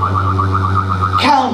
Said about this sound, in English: There's a high-pitched electronic hum joined by electrical beeping in agreement with countdown.